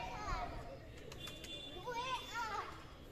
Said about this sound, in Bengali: প্রচুর পায়রা রয়েছে, পুরনো বাড়িতে পায়রা থাকে